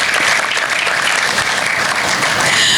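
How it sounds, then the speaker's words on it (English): Students at an interschool sustainable development competition give a dense, steady round of applause for their teachers and coordinators, loud and close, filling the whole moment without a break. "All the students, please give a huge round of applause to your teachers, coordinators, those who were there working with you."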